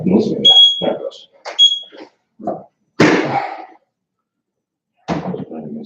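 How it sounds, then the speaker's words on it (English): A Kingsong 18XL electric unicycle beeps with short, sharp tones in a pair of quick bursts, mixed with scuffs and handling noises nearby. "Cool thing is about that beeping."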